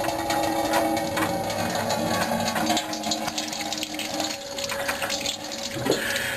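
Coolant water drains steadily from the radiator of a 1965 Ford Mustang GT being worked on for overheating, a continuous close trickling and splashing that holds at an even level throughout.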